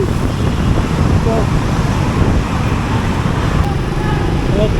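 Heavy road traffic on an Alabang service road heard while riding a Gixxer 155 motorcycle, a continuous loud rumble of engines mixed with wind buffeting the microphone.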